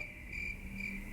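Crickets chirp in a steady, high, continuous trill, fairly quiet and alone, with no voices.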